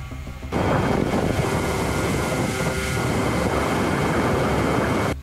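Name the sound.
DIY TB001 twin-tail drone climbing at full throttle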